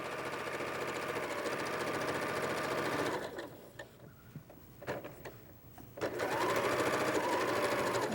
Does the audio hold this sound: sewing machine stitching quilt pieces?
yes